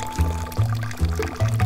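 A drink poured into a glass in a Resident Evil 6 trailer, several short, close glugging splashes coming in quick rhythmic bursts, loud and alone.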